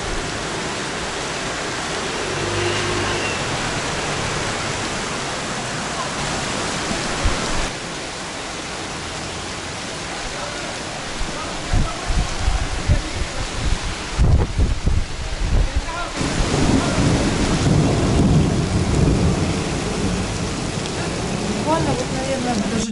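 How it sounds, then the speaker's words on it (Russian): Heavy rain pours steadily with gusty wind buffeting the microphone in Alanya, Turkey, in January; low rumbles of distant thunder surge in the middle. "очень сильный дождь и очень сильный ветер. Вы можете услышать гром."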